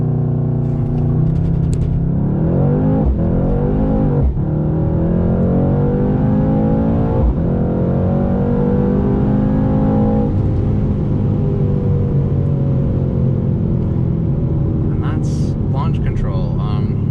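A 2021 Mercedes-AMG C63 S Coupe launches from a standstill at full throttle, the engine note climbing steadily through long rising sweeps with brief dips at shifts. It is loud and continuous, with voices talking over it.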